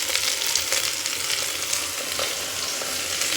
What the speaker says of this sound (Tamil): இதை வந்து நல்லா கிளறி விட்டுக்கலாம்.